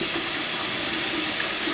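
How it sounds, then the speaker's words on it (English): Hot water runs steadily from a kitchen tap as a strainer is rinsed under it, a continuous close hiss of flow with no speech. "what I'm going to do is rinse it off"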